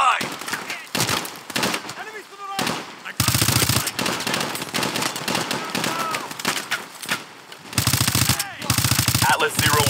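Bursts of rapid automatic gunfire ring out in the Call of Duty Advanced Warfare video game, loud and close, mixed with shouted commands and other combat voices.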